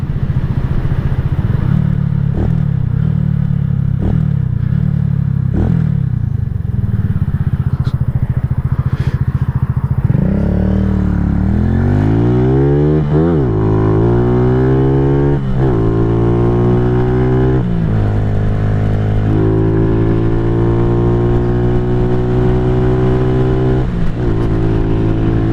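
A KP Mini 150 minibike with a new muffler and Nibbi carburetor drones loudly while riding, its small engine climbing in pitch through several upshifts and then holding a steady high cruise amid wind noise.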